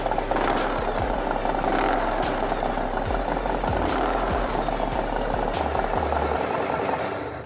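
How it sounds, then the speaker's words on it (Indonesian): An Indian motorcycle's V-twin engine is revved loudly and close by, with a deep, throbbing idle thump between repeated throttle blips that rise and fall several times. "Tetap ciri khas suara mesin V-twinnya masih kerasa dentumannya."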